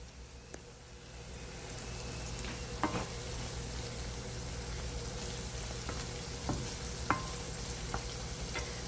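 Gardein Chick'n strips and spinach cook on low heat in a pan, giving a steady soft sizzle with a few faint clicks, close and uninterrupted.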